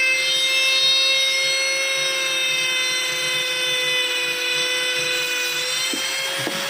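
Ingco 130-watt mini grinder spinning up and sanding wood, a steady high-pitched whine with stacked tonal harmonics, close and loud, holding constant with a couple of brief contact scrapes near the end.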